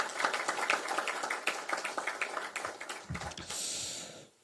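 Crowd applause at a Democratic Party rally in Chungnam, South Korea, dense overlapping claps filling the space, loud and steady, with a brief cheer swelling near the end before fading.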